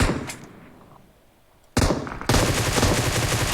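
Gunfire in the mobile game PUBG Mobile: a loud opening shot fades out, then sudden automatic bursts kick in and hold as continuous rapid fire to the end.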